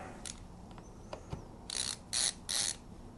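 A ratcheting Linus Tech Tips screwdriver backs screws out of a Lenovo ThinkPad laptop: a few faint clicks, then three louder bursts of close, crisp ratcheting.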